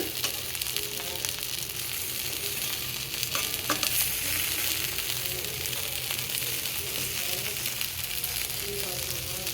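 Chilli-stuffed eggplant frying in a little oil in a pan, a steady close sizzle running throughout with occasional stirring clicks and light scraping.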